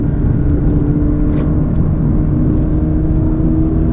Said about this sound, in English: So we are in 4th gear climbing up this hill